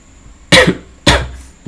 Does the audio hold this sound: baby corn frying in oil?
no